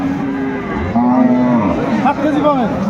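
A cow moos loudly and close at a busy cattle market, drawn-out calls with a bending pitch repeating over a few seconds against the low murmur of the market.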